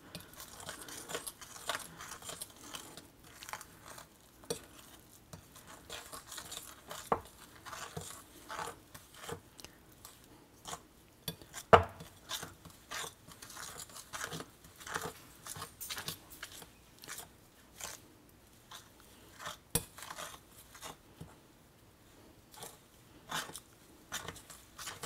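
A spoon stirs milk into a flour mixture to form dough, giving quiet, irregular scraping and soft wet clicks against a bowl, close and faint with small sharp knocks.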